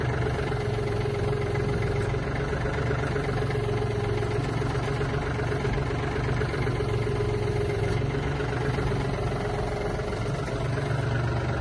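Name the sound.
Yanmar AF-24 mini tractor hydraulic cylinder operating, engine running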